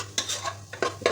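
Masala being stirred and fried in a pan, with a spoon scraping and clinking against the pan in a few short strokes over a low steady hum, close by with no talk.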